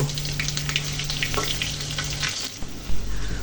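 Ground and paste spices fry in hot, browned oil left over from frying fish, a loud, close, fizzing sizzle with a few stirring knocks, dropping briefly before a heavier thud near the end.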